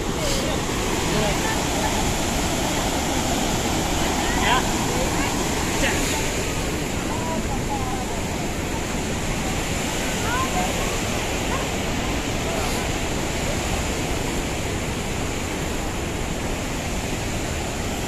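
Dhuandhar Falls at Bhedaghat roars with rushing white water, a loud, constant broadband wash that fills the whole scene close by, while people speak faintly over it.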